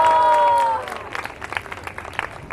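A crowd at a devotional drama program applauds, with scattered claps continuing after a brief sustained musical tone at the start, moderately loud and thinning out.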